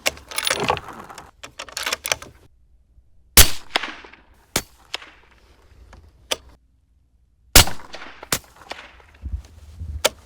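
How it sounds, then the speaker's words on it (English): Rifle firing factory-loaded ammunition, several sharp, loud cracks spaced seconds apart, with quieter handling noises and shuffling between shots. "I'm gonna shoot 3 more of the factory loads"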